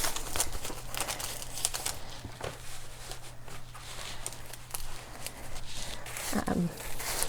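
Butcher paper from an infusible ink kit crinkles and rustles as it is handled close by, in irregular bursts of crackling, with quiet talk in the background.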